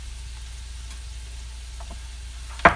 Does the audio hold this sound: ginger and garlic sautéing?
yes